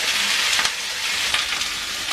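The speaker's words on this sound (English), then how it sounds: "Them onions really soak up that olive oil. You can hear it sizzling now." Steady, bright sizzling of onions frying in hot olive oil, continuous and close, with a faint stir midway.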